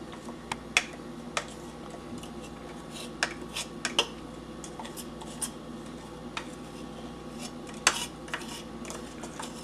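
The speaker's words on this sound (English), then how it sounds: "Alright, so just keep stirring it." Vegan cupcake icing made with powdered sugar being stirred in a bowl, heard as a steady soft scraping with irregular sharp clinks of the utensil against the bowl, close up and with no talking.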